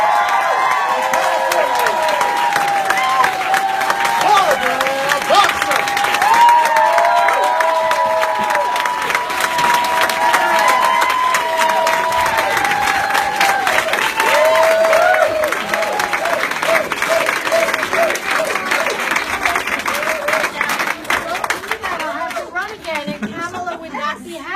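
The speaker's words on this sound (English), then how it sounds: "Please give a round of applause from the senator from the great state." At an Election Day 2016 rally, a large crowd claps, cheers and whistles for Senator Barbara Boxer, a sustained loud roar with chatter mixed in that eases slightly toward the end.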